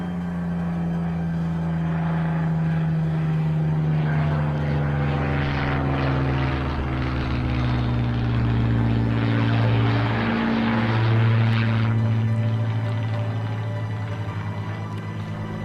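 A propeller plane dives and loops overhead above the Seven Sisters coastline, its engine drone loud and continuous and shifting in pitch as it swoops, with no talking.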